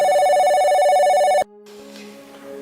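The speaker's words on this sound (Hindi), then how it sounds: "ये फोन किसका आ गया?" A telephone rings loudly indoors in a village home in a Haryanvi drama, a sustained electronic ringtone that cuts off abruptly, followed by quieter room tone and a faint trailing tone.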